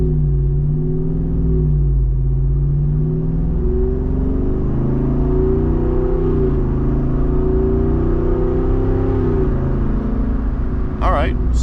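2023 Jeep Wrangler Rubicon 392 accelerating gently to 55 mph at partial throttle with the exhaust on; a steady, loud engine drone rising and shifting in pitch through gear changes, heard from inside the cabin.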